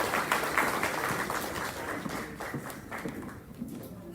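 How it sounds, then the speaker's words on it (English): An audience at an athletics hall of fame induction ceremony applauds cross-country teams with sustained, dense clapping from a large crowd. The clapping fills the space and slowly thins toward the end. "How about another round of applause for our cross-country teams?"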